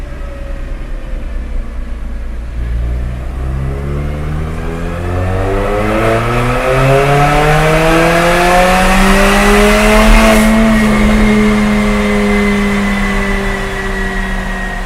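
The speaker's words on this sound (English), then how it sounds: "So we just completed the test of the ARMYTRIX turbo back exhaust." A Mercedes-AMG CLA45 with an ARMYTRIX turbo-back exhaust revs steadily higher through the gears on a dyno, its exhaust note rising in pitch and droning close by, with no voices.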